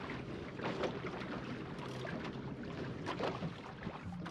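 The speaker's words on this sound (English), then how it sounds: "Hey, this is really, really nasty wind today." Strong wind buffets a sailboat on an estuary, a steady rushing roar with gusty bursts and water noise, close to the microphone and with no talk.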